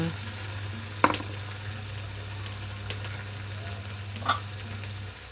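Water poured into stir-fried shrimp in a pan, a soft steady sizzle with a couple of brief clatters of stirring over a low constant hum, no voices.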